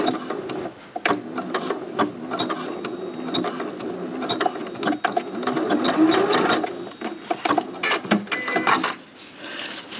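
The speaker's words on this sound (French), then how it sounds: "j'ai bien cousu mon élastique et j'ai fait ça au point zigzag" A sewing machine runs close up, sewing elastic onto leggings with a zigzag stitch, with fast rhythmic mechanical clatter in bursts and brief pauses between runs.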